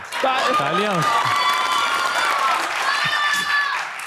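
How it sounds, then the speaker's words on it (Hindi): Studio audience on a TV show stage applauds and cheers in a dense, sustained wash of clapping, with whistles and a host's voice calling out over it. "तालियां हो जाएं भाई, तालियां।"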